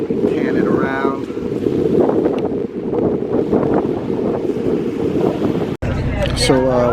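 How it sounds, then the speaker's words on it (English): Wind roars steadily across the microphone aboard the Key West Express ferry, with low engine and water rumble beneath, loud and continuous; near the end a cut leads to a short stretch where a voice speaks. "right now I'm on the Key West Express, and I'm heading to Fort Myers"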